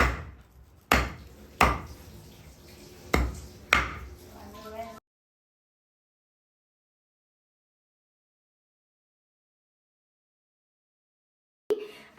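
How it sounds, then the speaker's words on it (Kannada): Mutton cut into pieces for biryani with a knife on a board, a handful of sharp, separate chops close by over background noise, then a long silence and one more brief knock at the end. "ನೀಟಾಗಿ ಮಟನ್ ಎಲ್ಲ ತುಂಡ ಕಟ್ ಮಾಡೋಣ"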